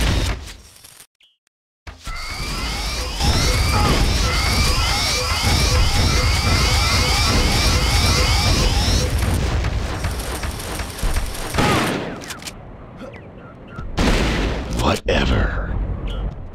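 Rapid plasma rifle fire in a retro Terminator 2 shooter game, a long loud stream of repeated zapping shots with descending whines, followed by scattered bursts and booms, with game voices mixed in.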